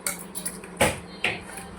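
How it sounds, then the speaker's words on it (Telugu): A spoon stirring and scraping through ingredients in a metal pot while making a jaggery-sweetened Ugadi dish, with light clinks and two sharper knocks against the rim, close by and with no speech. "ఇప్పుడు మిక్సింగ్ చేసుకుందాం."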